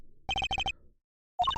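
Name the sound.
cell phone ringing in Apollo Justice: Ace Attorney video game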